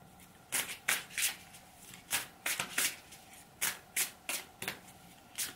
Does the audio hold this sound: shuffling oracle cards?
yes